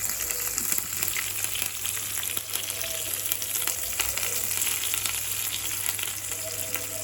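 Onions and curry leaves fry in a hot tempering for ulavacharu, a steady, close, dense sizzle that runs evenly throughout without talk.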